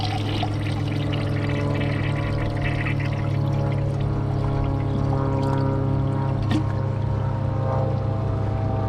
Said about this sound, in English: I'm gonna empty the rest out of the tank.